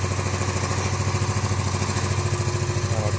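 A cafe racer motorcycle engine idles as it warms up, a steady, close, loud chugging rhythm with rapid even pulses and some mechanical clatter throughout.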